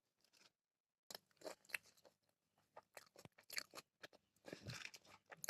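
Crunchy fuchka (pani puri) is bitten and chewed up close, with irregular crisp crunches and pauses between bites in an otherwise quiet room.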